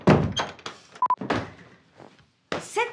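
A broken door handle gives a series of short, dull thunks and clunks at close range, with a brief beep and other faint indoor sounds between them.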